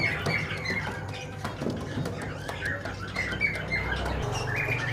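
Adult pigeons in a pet shop chirp and squawk in scattered short calls over a constant background hum and low indoor noise.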